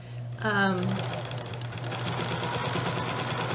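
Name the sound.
sewing machine stitching curvy bottom edge of baby jumper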